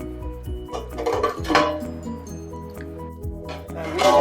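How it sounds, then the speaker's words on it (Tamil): A plate clatters and clinks against a metal pot of simmering goat intestine curry as it is set on top as a lid, with some knocking of kitchenware. "ஒரு தட்டு போட்டு மூடி வச்சிடலாம்."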